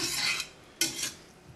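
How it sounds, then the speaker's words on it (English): Parmesan cheese and breadcrumbs are stirred into a ravioli filling in a bowl, giving two bursts of close scraping and stirring with a brief pause between, with no talking. "Get it stirred in a little bit more"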